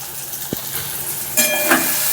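Sugar sizzles in a hot pan with vegetables while food is stirred, a steady loud frying hiss with a brief scrape early and a sharper burst of sizzling partway through.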